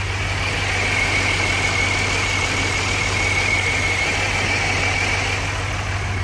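An L36 engine idling steadily in a car just after its first start-up, a constant low rumble with even exhaust pulsing close by, no talk.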